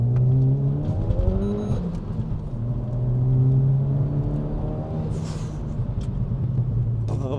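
A Renault Megane R.S. 280 hot hatch revs and accelerates nearby, climbing through the gears in a throaty, rising drone with a brief dip as it shifts.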